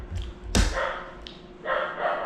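A dog barks near a seaside meal of freshly caught crabs: a few loud, sharp barks spaced irregularly over a couple of seconds, with some background noise.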